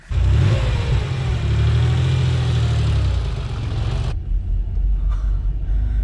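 Porsche 911 3.2 Carrera Targa with an air-cooled flat-six and five-speed G50 gearbox, engine revving up loudly under acceleration with a deep rumble, then easing off to a lower steady drone.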